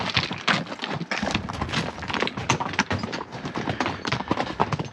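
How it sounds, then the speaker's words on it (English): Hooves of a pack horse clatter steadily on a rocky mountain trail in the Rockies, a close, busy run of clip-clops with no pause. "Gotta wait for the pack horse to get around the corner."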